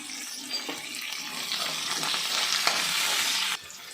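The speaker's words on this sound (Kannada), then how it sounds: "ಆನಿಯನ್, ಒಂದು 4-5 ಮೆಣಸಿನ್ಕಾಯಿ, ಕರಿಬೇವು ಹಾಕ್ಬಿಟ್ಟು ಮಿಕ್ಸ್ ಮಾಡೋಣ." Onion, green chillies and curry leaves stirred in a hot pan for bisi bele bath, a continuous close sizzle with scraping spatula strokes that stops abruptly near the end, no speech.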